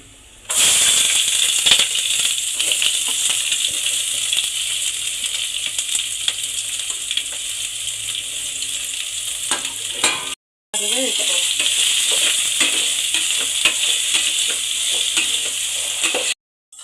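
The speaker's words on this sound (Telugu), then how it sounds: "ఇవి వేగాక ఉల్లిపాయ, పచ్చిమిర్చి, ఆలు వేసుకోవాలి." Onion, green chilli and potato fry in a pan over spices, a loud continuous sizzle that runs on with stirring, breaks off briefly, then resumes just as strongly.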